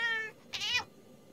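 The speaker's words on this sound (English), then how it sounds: "Oh, my kitty, Houston." A cartoon kitty lets out a single clear meow, bright and close, following a brief higher tone at the start, with no talking over it.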